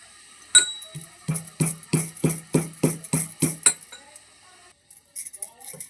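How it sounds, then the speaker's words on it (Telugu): Garlic cloves and cumin seeds pounded in a mortar for home cooking: about nine steady, evenly spaced thuds with a hard clinking edge, close and fairly loud, then a stop and a little faint handling noise. "ఎల్లిగడ్డలు దంచుకున్నాను."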